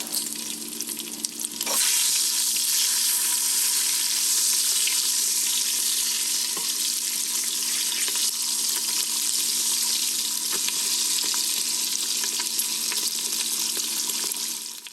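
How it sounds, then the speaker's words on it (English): Ham hocks sizzle and fry steadily in a pan for southern-style collard greens, a loud continuous crackling hiss after a brief quieter start, with no talking. "So I'm just going to finish frying this up,"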